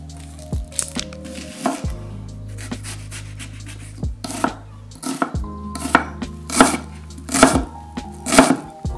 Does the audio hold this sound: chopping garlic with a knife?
yes